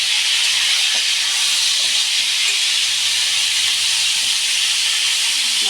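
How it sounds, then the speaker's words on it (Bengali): Fish heads fry in hot oil, giving a loud, continuous close-up hiss that holds steady without pause. "আমি এবার মাছের মাথাটাকে ভেজে নিচ্ছি।"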